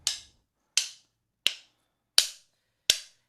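Tablitas, the wooden percussion clappers of Bullerengue, strike five sharp, dry clacks at a slow, even pace, each crack ringing briefly and decaying into silence, close up with no voices.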